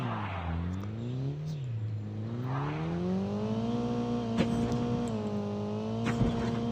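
Car engine in Call of Duty Mobile, a steady revving drone whose pitch dips, rises and settles into a sustained high hum, with faint clicks near the end and no talking.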